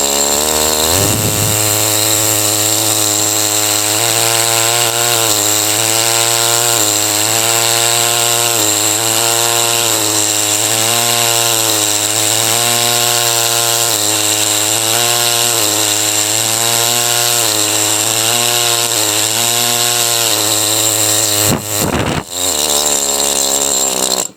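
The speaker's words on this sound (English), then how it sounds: "I gotta refile this chisel bit, but this also works on 110 psi, pounds of pressure per square inch." A Super Jack pneumatic air scribe fitted with a chisel bit, running on 110 psi, chips at rock during fossil prep. It gives a loud, steady, close-up buzzing drone with slight wavering that runs for about 21 seconds before cutting off abruptly.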